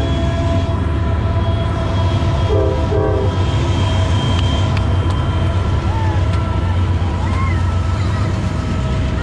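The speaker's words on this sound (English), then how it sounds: "You gonna wave at that train?" A train rumbles past close by at Sandusky Bay on Lake Erie with a steady heavy roar and clattering wheels; a horn sounds briefly, and a voice speaks over the noise.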